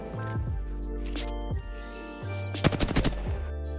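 Automatic gunfire in Apex Legends, fired at flyers to make them drop loot, comes in several short bursts, ending with a rapid clattering volley, with no talk.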